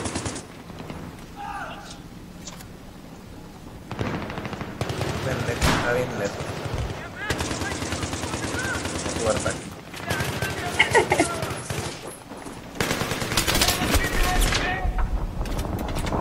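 Rapid automatic gunfire from a Battlefield 3 Metro team deathmatch comes in repeated bursts and sustained volleys, mixed with other game sounds, while players talk over the action.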